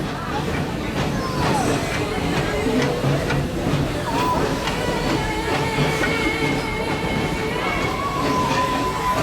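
The Busch Gardens Tampa park train rolls toward a station, with a steady rumble, clacking wheels and faint squealing tones under nearby voices and background chatter.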